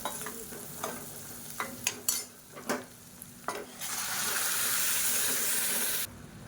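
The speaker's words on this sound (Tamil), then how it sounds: "சேர்த்துட்டு லேசாக வதக்கி விட்டுட்டு சாம்பார் எடுத்து இதில் ஊற்றிடலாம்." Onions sizzle and fry in a pan with roasted spice powder for sambar, a few stirring scrapes and clinks at first, then a loud, steady sizzle that stops abruptly near the end.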